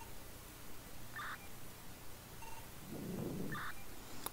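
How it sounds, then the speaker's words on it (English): Two short, faint electronic blips from a Teamspeak 3 microphone click effect, spaced a couple of seconds apart, sit over a steady background hiss with a brief low rumble between them. "get mic clicks in your Teamspeak"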